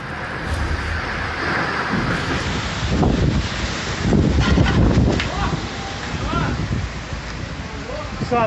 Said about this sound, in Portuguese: Que ventania!